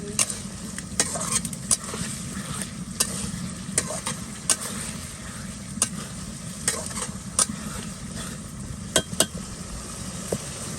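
Fresh hilsa fish fries in a pan on a home stove, a continuous sizzling hiss broken by frequent sharp clinks and scrapes of a utensil stirring and turning the pieces.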